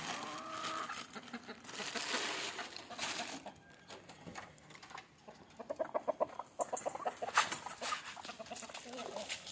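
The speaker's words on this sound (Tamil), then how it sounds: "நல்லா கம்பம் பிடிச்சி சாப்பிடு ப்ரோ கோழி." Country chickens, hens and roosters, cluck and squawk busily while being fed millet around midday outdoors, a near, lively farmyard chorus with some overlapping sounds.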